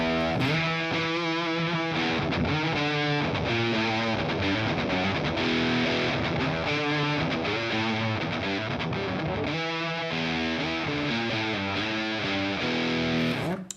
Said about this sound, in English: Let's throw a fuzz pedal in front of that kind of crunchy amp tone.